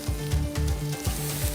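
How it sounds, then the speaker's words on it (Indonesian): Garlic and shallots fry in hot oil for a curried shrimp fried rice, a loud close sizzle with rhythmic stirring scrapes and clanks repeating about every half second. "Bawang putih dan bawang merah ini kita masukin dulu ya"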